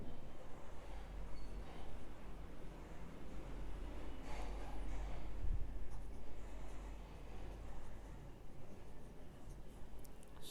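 A Sailor 1911 Standard fountain pen with a gold-trimmed medium nib writes on paper, a faint, continuous scratchy scratching of nib on paper close by under a steady background hiss, with no speech.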